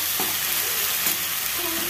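Onions stirred and mixed in a hot pan, a dense steady sizzle close up with a few soft scrapes of the spoon, no voices.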